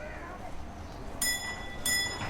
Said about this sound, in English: And now the old train arrives